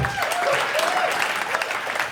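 A comedy club audience claps steadily in a dense, close wash of applause, with a few voices and whoops mixed in throughout.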